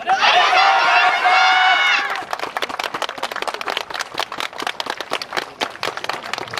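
A festival crowd at the Asaka city summer festival, Saikasai, claps warmly after a naruko dance team's stage show; a strong voice rings out first, then scattered, close hand claps patter on for several seconds.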